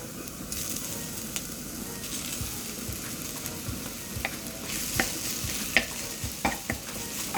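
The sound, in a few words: mashing potato and tinned fish in a frying pan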